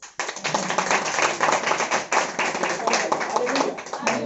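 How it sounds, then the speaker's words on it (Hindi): An audience at a church sermon bursts into loud, sustained applause, a dense wash of many hands clapping together for about four seconds. "चलो उत्साह बनाने के लिए जोरदार ताली बजाते हैं।"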